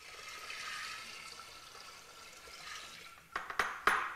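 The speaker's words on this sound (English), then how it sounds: "the bentonite that I had with hot water here has cooled down a bit, so I'm going to drop that in the fermenter" Bentonite mixed with hot water poured into a wine fermenter, a soft trickling wash of liquid that ends in a few sharp splashes and clunks, close and quiet, with no talking.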